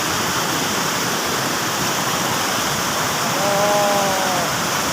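Heavy rushing water pours down steadily after a night of heavy rain, a dense, unbroken roar close by, with a brief murmur of a voice near the end.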